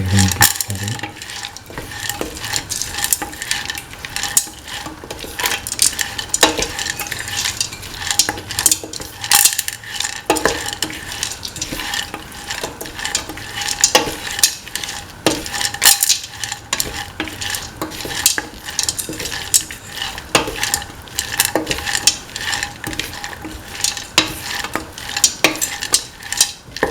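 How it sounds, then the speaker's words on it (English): A spoon stirs green peas through tomato snake gourd rice in a metal pan, producing repeated scraping and clinking strokes at an irregular rhythm, close and moderately loud, with no talking. "Thoroughly mix in the green peas."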